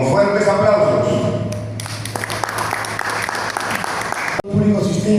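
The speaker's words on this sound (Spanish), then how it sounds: "Lo vamos a recibir entonces con fuertes aplausos." An audience at a lecture bursts into applause after a spoken introduction, a dense, steady patter of many hands clapping that lasts a few seconds before cutting off, with talking heard before and after.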